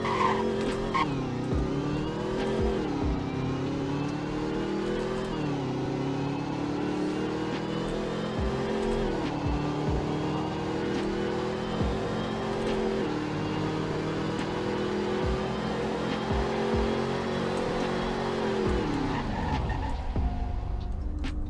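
Car in the Roblox game Greenville accelerating through a speed test, engine rising and falling through gear changes with tires squealing and skidding, loud and continuous, ending in a sharp drop.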